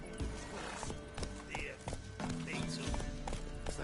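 Roach, the horse in The Witcher 3 video game, neighs and trots with clip-clopping hooves, close and fairly loud over steady game ambience.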